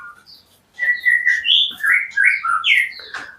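A white-rumped shama sings a varied run of clear whistled phrases and chirps, close and loud, after a brief quiet pause.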